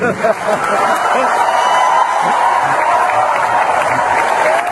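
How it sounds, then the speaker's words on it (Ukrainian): Dense, sustained applause and ovation from a large concert audience in a hall, steady and loud throughout with a little cheering mixed in. "Зал просто зірвали овації після того, як Галкін поставив пропагандиста на місце."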